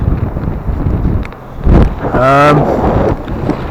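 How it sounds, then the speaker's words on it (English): Strong wind buffets the microphone on a beach with windmills out at sea, a loud continuous rumbling gust that swells and fades, with a brief tonal whistle partway through. "Yes, it's very windy, so my apologies again."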